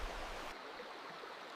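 A campsite river flows steadily in a forest setting, its broad, even wash of water noise close and continuous, with no voices over it.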